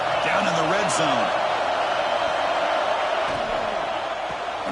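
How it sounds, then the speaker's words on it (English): A football stadium crowd roars in a continuous loud wash during a defensive red-zone stand, with scattered whoops rising above it and a commentator talking over the noise. "the crowd coming to life here, trying to help this defense down in the red zone"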